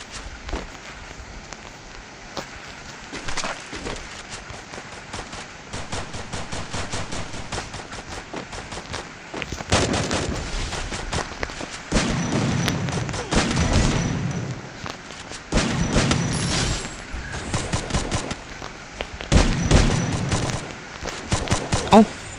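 Gunfire in the Free Fire shooting game comes in rapid automatic bursts and scattered single shots, some loud and close, others sharper and spaced apart.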